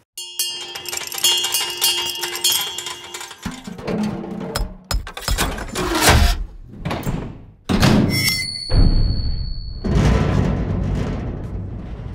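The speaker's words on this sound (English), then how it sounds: "Metal." Metallic impact effects from a general-purpose sound effects library play one after another: loud clanks, thunks and ringing hits of varied length with short gaps between them, some leaving a sustained metallic ring as they decay.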